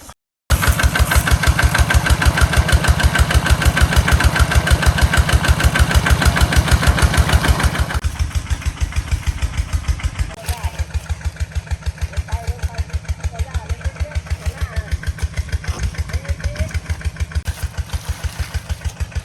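An engine-driven water pump drawing water from a pond chugs loudly and steadily at close range, its rapid even firing continuing throughout after an abrupt start.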